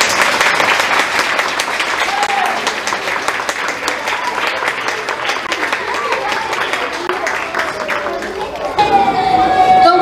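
Schoolchildren applauding after an earthquake drill demonstration at a primary school, a continuous crowd of small hands clapping steadily with voices and a few higher shouts underneath, ending in a brighter burst of cheering.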